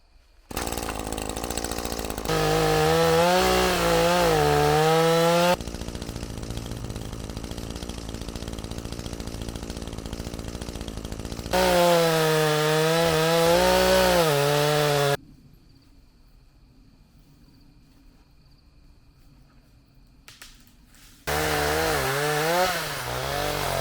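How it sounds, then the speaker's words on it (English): A pole-mounted chainsaw cuts wood on an overgrown hiking trail, loud bursts of revving and sawing alternating with idling, then a quiet pause before cutting resumes. "Chainsaw on a pole, so practical."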